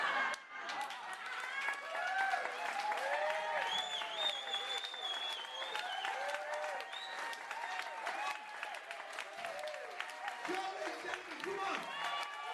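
Sustained audience applause at a comedy show, a dense steady wash of clapping lasting throughout with some whoops and cheers mixed in.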